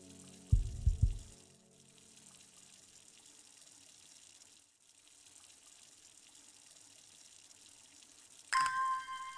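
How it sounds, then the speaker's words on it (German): Water pours in a few short splashing bursts while plants are watered in the game Strange Horticulture, followed by a long quiet stretch and then a bright chime near the end. "müssen wir eigentlich wieder Pflanzen gießen?"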